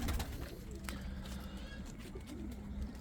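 Soft, low cooing comes through faintly from a bird over a constant background rumble.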